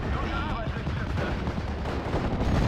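Gunfire and artillery in the WWII strategy game Steel Division: Normandy 44 on the Odon map form a dense, continuous rumble of overlapping shots and blasts, loud and unbroken for the whole moment.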